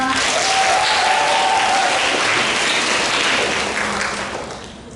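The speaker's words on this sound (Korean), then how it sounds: "힘찬 응원의 박수 부탁드립니다" Steady broadband applause from a school audience at a girls' high school book presentation event, loud and sustained, then tapering off toward the end.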